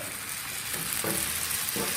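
Rice flour batter for patishapta sizzles in a frying pan with a brief, even hiss close by.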